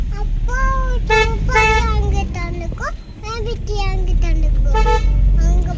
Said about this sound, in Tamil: ஹாரன் மாத்திட்டாரா, அதான் அடிச்சு காட்டிட்டு இருக்காரு.